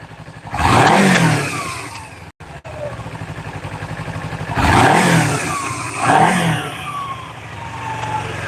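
During carburetor tuning, an engine is revved hard twice from a steady idle, the loud roar rising and falling each time before settling back to a rough, even idle.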